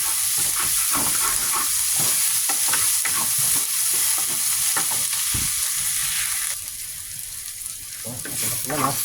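Chicken tinola ingredients, including chicken with papaya, sitaw and ampalaya, stirred and sizzling in a pan, with steady loud frying hiss and repeated scraping stirs throughout, easing briefly near the end.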